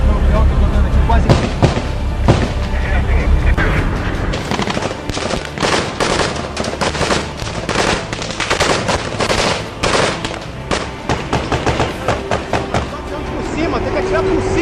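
Rapid automatic gunfire from Brazilian armed forces elite troops crackles in dense, loud bursts, with a deep rumble at the start and shouts of commands over the shooting.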